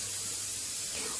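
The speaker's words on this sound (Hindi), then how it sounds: "तो ये बर्तन में धुल रही हूँ।" Dishes being washed by hand under a running tap in a home kitchen, giving a steady, moderately close hiss of flowing water that continues without a break.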